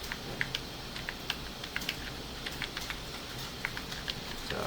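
Steady typing on a computer keyboard, a run of light, quick key clicks close by with an even rhythm.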